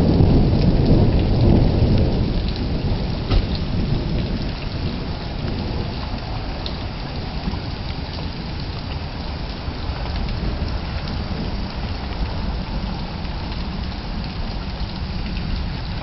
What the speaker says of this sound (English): So you can probably hear the thunder.